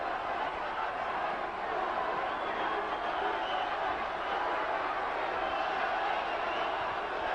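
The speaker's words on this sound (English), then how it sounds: "Crowd roaring their man on" A boxing crowd roaring and cheering on a fighter at a professional bout, a dense, continuous wall of distant voices holding steady throughout, with commentary voices faintly mixed in.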